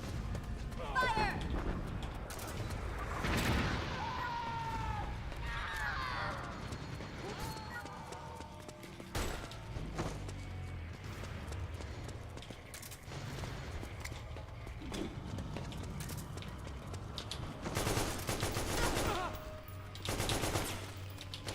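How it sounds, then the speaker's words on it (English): Tank main gun blasts and bursts of gunfire in a video game, several loud sharp explosions scattered through a busy battle mix, with voices speaking between shots. "Prepare to fire main gun."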